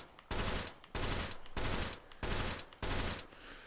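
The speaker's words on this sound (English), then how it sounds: "It's not the most powerful gun in the world," Engineer gun firing in the VR shooter Hot Dogs, Horseshoes & Hand Grenades: five heavy, evenly spaced blasts about half a second apart, each loud and booming with a short tail, close and alone.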